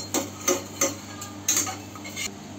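Spoon clinking and scraping in a bowl while mixing dried fenugreek, salt and turmeric for chana chaat, a series of sharp metallic taps at an irregular rhythm, close and fairly quiet.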